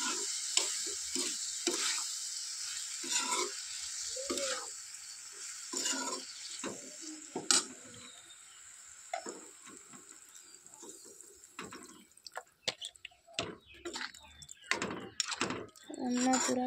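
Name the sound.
stirring food in pan and adding water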